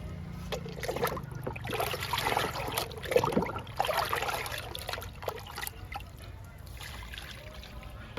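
Liquid fertilizer trickles and splashes onto flowering garden plants, a soft, uneven dribbling of water that runs steadily for several seconds with faint rustling, close by and fairly quiet.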